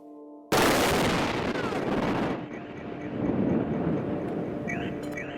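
A huge blast from an explosion falling 22,000 feet hits with a sudden loud boom, then rolls into a long, dense rumbling roar that swells again as the shockwave arrives.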